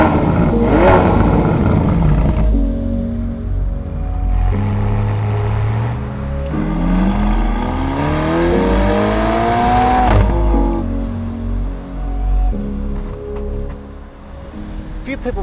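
A 2015 Ferrari California T with a 3.9-litre twin-turbo V8 revs loudly, its engine note climbing in a long sweep before dropping back to idle, with further blips close by and no talk over it.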